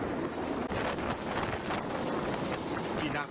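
Strong wind at sea roars across the microphone in a short, dense, continuous blast, loud throughout with a slight dip partway.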